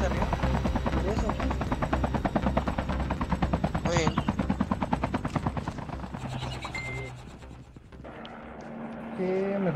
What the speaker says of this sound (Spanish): Ahí hay un helicóptero abajo, escucha.